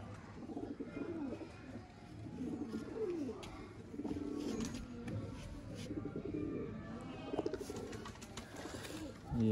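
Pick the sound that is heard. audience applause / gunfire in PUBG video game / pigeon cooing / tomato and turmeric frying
pigeon cooing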